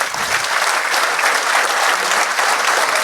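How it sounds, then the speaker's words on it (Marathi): A large audience at a public felicitation event claps loudly and continuously, a dense, even wall of applause that holds steady throughout with no voices standing out. "आपल्या समाजामधल्या लोकांना ज्यांचा सत्कार केला त्यांच्यासाठी पुन्हा अशाच एकदा जोरात टाळ्या वाजवायच्या"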